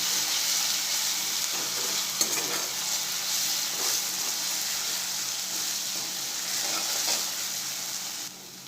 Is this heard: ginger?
yes